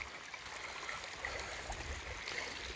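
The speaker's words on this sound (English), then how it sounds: "you'll notice all the water coming out of that driveway" Stormwater streaming out of a driveway and across toward the road in Rhode Island, a faint continuous rushing trickle with a broad watery hiss, heard alone.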